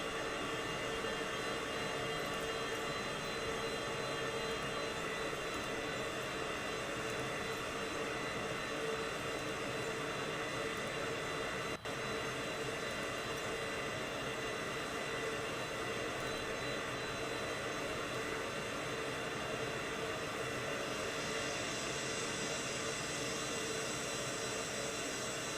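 Cessna Citation CJ4 business jet engines in Microsoft Flight Simulator, a loud and steady whining roar that holds unchanged for the whole stretch, broken once by a brief click near the middle, with no talking.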